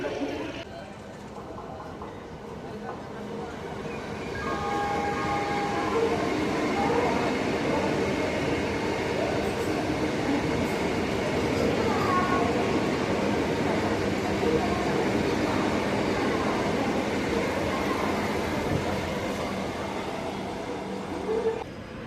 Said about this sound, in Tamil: ஃபைனலி ஒரு 15 minutes டிலேக்கு அப்புறம் நம்ம ட்ரெயின் வந்தாச்சு